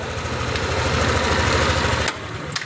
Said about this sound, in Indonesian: Lalu kita starter. Langsung hidup ya.